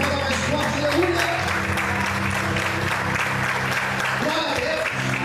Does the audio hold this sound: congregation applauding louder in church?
yes